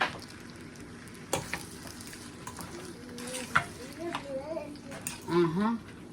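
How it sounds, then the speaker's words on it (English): Cream poured into a hot pan of shrimp scampi with lemon and pasta, giving a steady low sizzle with soft stirring and a few light clinks, while a voice talks over it. "I'm gonna add a little cream, just like that."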